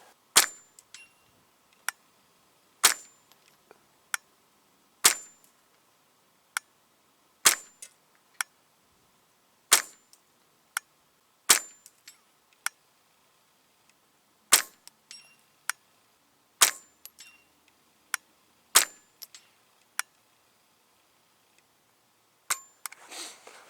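Rounds fired from a gun outdoors in cold weather, with about a dozen sharp, loud reports spaced a second or two apart, each followed by quieter metallic clinks and ticks in between.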